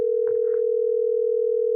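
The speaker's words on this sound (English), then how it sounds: "Let's dial her up, all right?" A steady, loud telephone dial tone hums without a break, with a faint brief murmur near the start.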